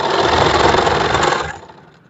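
Sewing machine running steadily while stitching trouser pockets, a dense continuous whir close by that fades out near the end.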